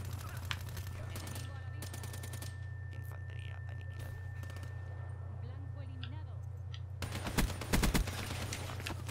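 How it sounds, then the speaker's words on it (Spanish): Rapid bursts of gunfire in a Black Ops 3 team deathmatch round: a short volley, a lone shot, then a heavier cluster near the end, all over a constant low hum with faint game voices. "Mira, ahí ya están disparando"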